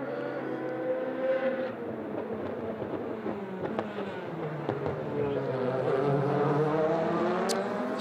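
Race cars at the 2016 6 Hours of Spa-Francorchamps, several engines screaming past with rising and falling pitch, overlapping as they run wheel to wheel, loud and continuous.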